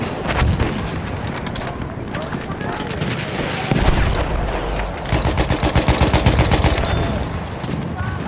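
Rapid machine gun fire rattles through a chaotic World War I battle in the shooter game Battlefield 1, with dense bursts of gunfire and explosions overlapping loudly throughout.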